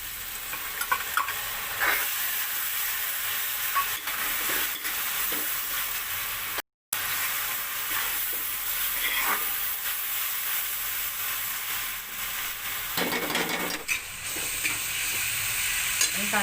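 A wet ground paste of coriander, green chili, garlic and ginger hits a hot pan for prawn pulav and sizzles loudly and steadily, with stirring scrapes and one brief dropout partway through.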